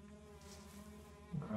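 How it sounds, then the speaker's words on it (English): Buzzing bees in The Eternal Castle video game, a steady close insect drone that holds through the clip before a louder burst at the end. "I hear bees."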